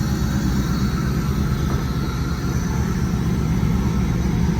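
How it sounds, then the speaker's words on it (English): A 1995 Pontiac Trans Am Comp T/A engine pulling air through hood snorkels, heard as a steady, loud low rumble with a broad airy hiss and no talking. "You can just hear the motor sucking in all that air through the snorkels."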